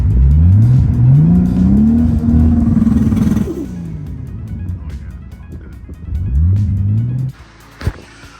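A Toyota Supra RZ fitted with two-step launch control revs hard against the limiter for about three seconds, the pitch rising and holding, then drops to idle before a second short rev burst and a sharp pop, close and loud.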